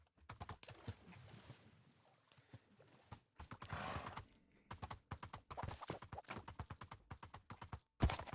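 Minecraft horse neighing and hooves clattering in rapid, dense bursts, fairly close and moderately loud, with short gaps between clusters of clip-clop.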